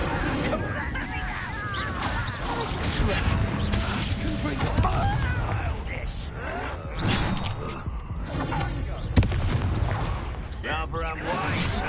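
Fiery spell blasts in Hogwarts Legacy gameplay, a dense crackling whoosh and shattering bursts filling the whole stretch, loud and continuous with layered combat effects and talk mixed underneath.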